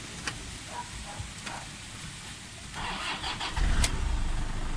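A Toyota Innova engine is cranked and catches near the end, turning into a steady idle after a quiet stretch, with a few faint clicks beforehand.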